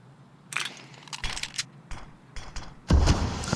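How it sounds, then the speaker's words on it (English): Counter-Strike match audio from a pro tournament: an underhanded right-click smoke grenade toss, with scattered short clicks and rustles followed by a louder burst of pop and hiss near the end, no talk. "That was the sound of an underhanded right-click smoke"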